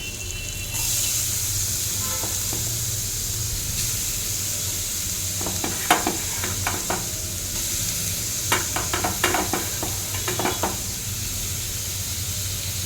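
Carrot frying with ginger-garlic paste in a pan hisses steadily over a low background hum, broken midway by bursts of sharp spoon scrapes and clacks as it is stirred.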